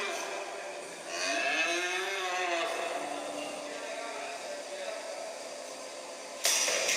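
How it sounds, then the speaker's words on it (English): A calf lets out a drawn-out moo with a rising and falling pitch, fairly close, over a steady background hiss, followed by quieter ambient noise. "This is a baby cow."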